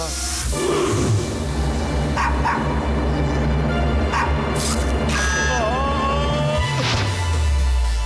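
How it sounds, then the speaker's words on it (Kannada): A dog barks repeatedly in the background of a phone call in an animated cartoon, with busy overlapping effects and a falling whine near the end. "ಬ್ಯಾಕ್ ಗ್ರೌಂಡ್ ಅಲ್ಲಿ ನಾಯಿ ಬೊಗಳ್ತಾ ಇದೆ."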